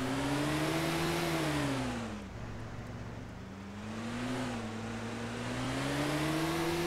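A car driving in the video game Arma 2 DayZ Mod, its engine droning loudly with audible gear-like pitch rises and a dip midway before climbing again, steady and close with no talk.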